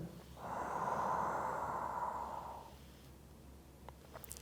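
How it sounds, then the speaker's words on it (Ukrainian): One long, audible inhale through the nose during an at-home bedtime exercise routine, close and breathy, lasting about two seconds and then fading to quiet. "Вдих вперед."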